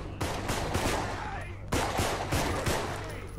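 Gunfire from the Contagion video game: rapid rounds crack in two dense volleys separated by a brief pause, loud and close.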